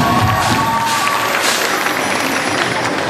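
A concert crowd at Gandaria City cheers and applauds for the band, a loud, dense wash of clapping and shouting that fills the whole stretch without a break.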